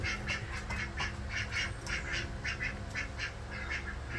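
Chickens and a rooster settling in a coop for the night, giving repeated short nasal calls in a loose rhythm over a steady low background hum, fairly close and with no talking.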